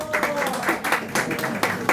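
Brief applause from a book fair panel audience, several short bursts of clapping over about two seconds.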